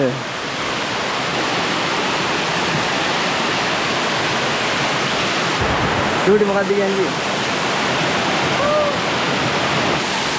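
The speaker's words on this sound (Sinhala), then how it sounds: "ඔන්න තියෙනවා ඉස්සරහා ඇල්ල" Andahalena Ella waterfall roaring as a loud, unbroken wash of falling water close by, with a voice briefly speaking over it partway through.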